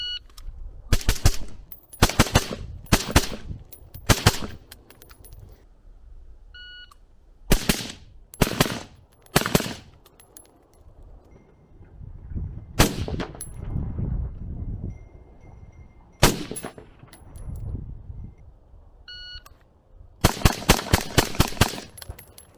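A suppressed KAC DB-15 rifle fires outdoors in quick strings of muffled cracks, bursts of several shots separated by pauses, with faint wind between.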